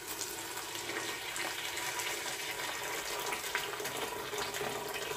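Water pours steadily and quite loudly into a pot of spice-coated meat for couscous, a continuous splashing stream with no voices over it.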